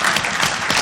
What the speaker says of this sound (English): I'm going to clap to that